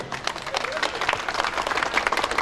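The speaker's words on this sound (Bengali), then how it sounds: "স্যারদের জন্য জোরে করতালি।" An outdoor picnic ceremony audience claps while a chief guest is welcomed with a bouquet. The applause is a dense, continuous patter of many hands, with voices mixed in.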